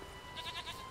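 Goats bleating in The Witcher 3, a short run of several soft, wavering bleats over a steady game ambience, fairly quiet and with no talk.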